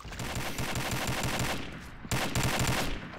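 Rapid automatic gunfire in the shooter game Combat Arms, dense bursts of close, sharp shots that pause briefly midway and then resume.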